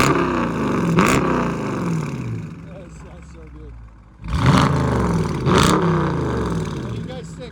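A 2018 Dodge Challenger R/T with a 5.7L HEMI V8 and mid-muffler delete revs twice in loud, rising bursts, settling into a rumbling idle between them, with voices heard nearby.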